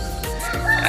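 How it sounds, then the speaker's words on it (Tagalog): A rooster's call rings out loud and close, a single sustained crow filling the short moment without any talking. "Yan ang manok ah."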